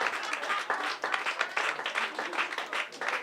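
Stand-up comedy audience applause in a small club: a moderate, slightly distant patter of clapping hands that rises and falls in uneven bursts, with no talking over it.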